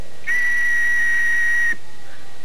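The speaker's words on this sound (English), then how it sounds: "you're going to hear the sound of the whistle" A single loud, sustained whistle blast rings out clearly for about a second and a half in a wrestling promo setting, then cuts off abruptly, leaving low background rumble.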